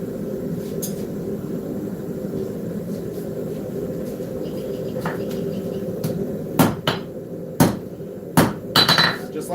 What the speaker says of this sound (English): when we're forging in the tip, on this particular phase, again, I'm going to hang it just off the edge a little bit